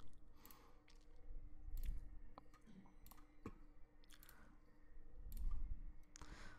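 Computer mouse clicks scattered through a painting session in Photoshop, sharp isolated ticks at irregular intervals over a low background hum, fairly close and moderately loud.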